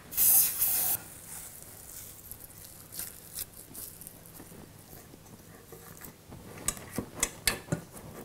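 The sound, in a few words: cooking spray sprayed into cake pan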